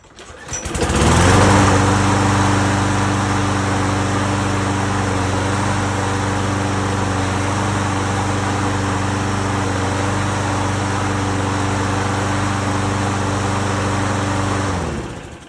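Briggs and Stratton small engine on a machine, just repaired with a new flywheel key, starts quickly and runs at a steady, loud, buzzing idle-to-high speed for about fourteen seconds before cutting off.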